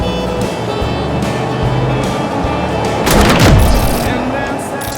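A 1994 Chevrolet K1500 Z71 pickup with a 5.7 V8 and automatic transmission is heard on a test drive. The engine drones low and steady, swelling briefly into a louder rumble midway, with some wind and road noise.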